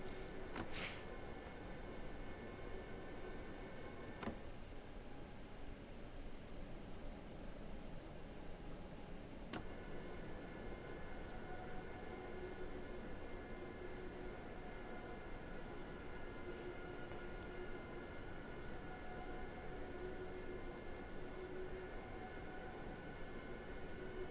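A train in the Train Sim World game on the Rhine-Ruhr main line between Duisburg and Bochum, a steady low rumble with faint rail hum and a couple of brief clicks, continuous and fairly quiet.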